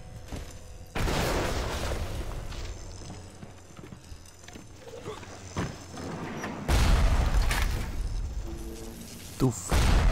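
Explosion in the video game Bioshock: sudden loud booming blasts, one near the start and a heavier one later, over a rumbling game soundscape with scattered impacts.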